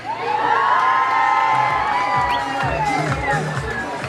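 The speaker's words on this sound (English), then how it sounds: "On 3, the miners may scream, shout and jump." Children at a junior football league prize giving on an oval cheer, scream and whoop together as a crowd, loud and sustained for a few seconds.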